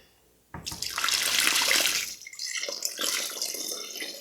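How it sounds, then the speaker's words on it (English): Warm water pours steadily into a container of bacon and ham curing mixture for a couple of seconds, then trickles and splashes more unevenly as the flow tapers off. "Now I got some warm water here."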